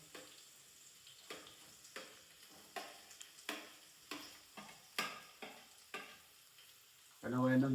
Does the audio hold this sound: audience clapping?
no